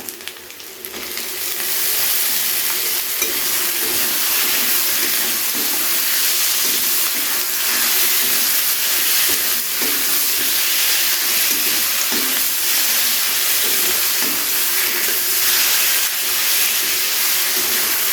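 Tomato hits fried onion and garlic paste in a pan for a fish-head chhyachra, setting off a loud, continuous sizzle and hiss up close that holds steady for many seconds with occasional stirring scrapes.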